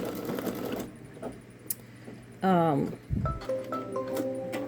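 A Babylock Solaris Vision embroidery machine stitches on metallic vinyl for a patch, its mechanical hum and needle rhythm running under a person talking nearby.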